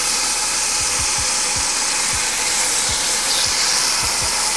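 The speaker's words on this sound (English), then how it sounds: "Press those lamb chops down so they make good surface area contact with the skillet." Thin marinated lamb chops searing in a hot skillet, a loud, constant close sizzle with low thumps now and then as the meat is pressed down, no voices.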